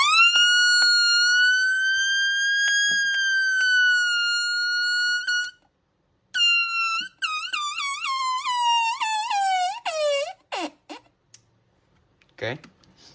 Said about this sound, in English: also the siren on this thing, oh my god, it's so high pitched.